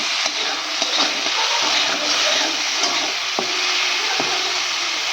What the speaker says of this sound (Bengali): চিংড়ি মাছগুলো ভেজে নিই